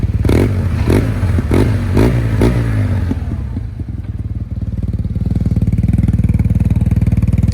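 A Yamaha TMax 530 DX scooter fitted with an Akrapovic exhaust revs loudly and close up in several sharp bursts, then drops to a steady, throbbing idle.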